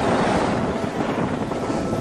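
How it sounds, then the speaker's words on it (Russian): Very strong wind blowing outdoors in a deserted Pacific coast settlement, a loud, continuous buffeting roar hitting the microphone throughout with no letup. "Очень-очень сильный ветер на улице."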